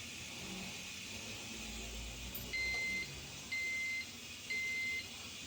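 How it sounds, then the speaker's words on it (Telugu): A Geek robot pressure cooker sounds its ready alarm, three evenly spaced beeps about a second apart, clear but modest in level over a quiet room background. "ఈ విధంగా మనకైతే బీప్ సౌండ్, అలారం సౌండ్ అయితే ఇది ఇస్తదండి."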